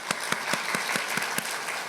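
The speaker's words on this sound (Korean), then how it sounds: "우리 박수로 우리 또 환영을 하도록 하겠습니다" Congregation applauding in a church worship service to welcome visiting family, steady clapping with distinct sharp claps standing out over the crowd.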